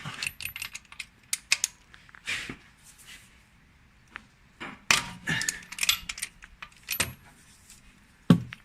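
A socket wrench with a 24 mm socket working the gearbox filler plug on a Citroen C1 / Peugeot 107 / Toyota Aygo 1.0, giving irregular metallic ratcheting clicks and clanks, close, in bursts separated by quiet gaps, with no talk.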